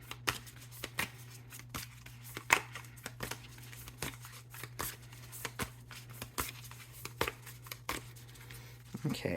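Tarot cards being shuffled repeatedly, crisp riffling bursts in an uneven rhythm up close, over a steady low hum.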